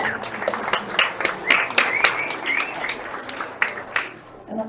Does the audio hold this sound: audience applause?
yes